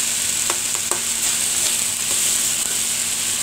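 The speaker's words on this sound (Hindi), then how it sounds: "चने फ्राई हो रहे हैं।" Kaale chane sputter in a hot pan with a steady close hiss and a few sharp pops and clicks of stirring scattered through.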